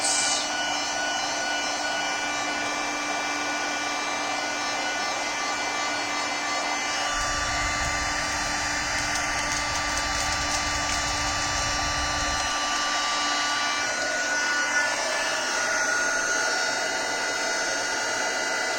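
A hot-air heat tool warms cardboard and an embossing folder, making a steady, loud blowing whir that runs throughout, with a deeper rumbling layer in the middle stretch.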